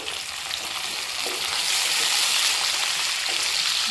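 Chopped capsicum and green chilli sizzle in hot oil with lightly fried garlic for egg manchurian, a steady, bright frying hiss that grows slightly louder and continues without pause.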